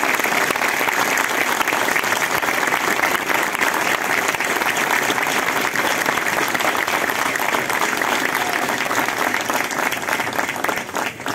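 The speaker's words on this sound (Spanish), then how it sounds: "Amigo Tolín Ramírez, para él pedimos un fuerte aplauso como sentido homenaje para allá donde esté" Sustained audience applause fills a crowd at a traditional music gathering during a neighbourhood saint's day festival, dense steady clapping at full level throughout with no talk, easing slightly at the very end.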